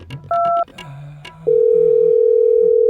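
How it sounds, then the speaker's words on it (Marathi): A phone call is placed: a few short electronic beeps give way to a loud, steady, continuous dial tone. "पहिला सरांना फोन लावतो"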